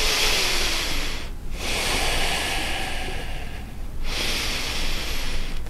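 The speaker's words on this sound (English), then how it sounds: "Pulse with the breath up on the inhale, deeper on the exhale." Steady yoga breathing, rhythmic breath pulses drawn up on each inhale and pushed deeper on each exhale, close and loud with a brief pause between rounds and no talk.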